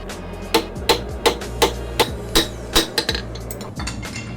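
A hammer strikes a steel prybar being forged into a kukri, a run of about eight sharp, ringing blows at an even pace, then a few lighter taps over a low steady rumble.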